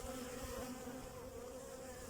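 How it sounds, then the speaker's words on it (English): Honey bees humming inside a big hive box, a dense, steady close buzz of many insects with no voices. "there's loads of bees downstairs. So this is a big hive"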